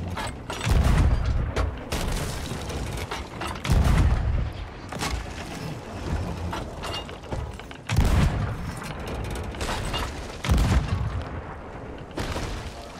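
Ship cannons fire in the pirate video game Sea of Thieves. Four or five heavy booms land several seconds apart amid crackling battle noise, with no talk over them.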